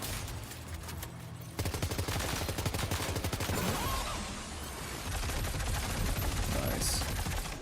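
Rapid rifle gunfire from the video game Death Stranding 2, a long run of dense, loud automatic shots with no pauses, steady across the whole stretch.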